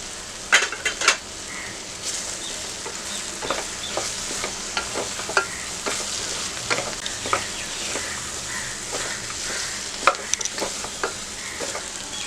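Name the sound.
soya chunks being stir-fried in masala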